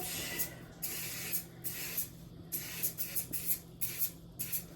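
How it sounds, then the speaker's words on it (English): A spray bottle spritzes a strawberry cake with a quick series of sharp, close hissing bursts, about a dozen in an uneven rhythm, quiet background otherwise. "Give it a little spritz as well."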